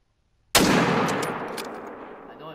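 A single sharp hunting rifle shot in theHunter: Call of the Wild, loud and sudden after silence, followed by a long decaying echo rolling across open terrain.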